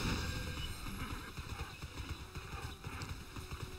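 Horses in the video game TERA Online clop their hooves in a busy, irregular patter, with an occasional whinny, moderately loud against the game's ambient backdrop.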